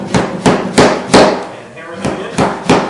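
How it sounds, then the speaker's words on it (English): A finish hammer drives wall staples back into a mobile home wall, giving seven sharp, evenly spaced knocks at close range with a short gap in the middle. "go along that wall with a finish hammer"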